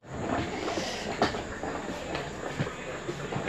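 A passenger train waits at a station while being boarded at sleeper coach S10, giving a steady, moderately loud rumble and hiss with a few faint knocks and clicks.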